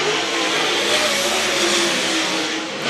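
A race car engine roars steadily on a dirt track during a qualifying lap at Whynot Motorsports Park, a broad, sustained drone heard from a distance without a clear rev pattern.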